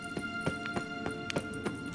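Horse hooves clip-clop at a steady trot in The Witcher 3, the mount a kelpie, with regular close hoofbeats running throughout beneath a faint ambient game backdrop.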